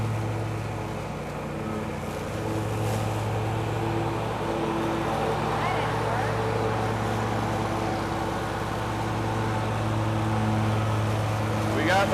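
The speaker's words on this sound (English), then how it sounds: "We got the mower set all the way up right now in case we missed something" Lawn mower running on a homestead yard, a steady droning engine hum held throughout at moderate distance, with a voice speaking over it.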